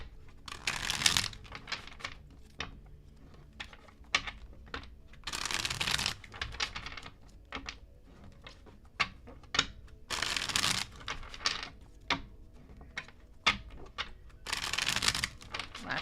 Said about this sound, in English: I'm just trying to shuffle these cards.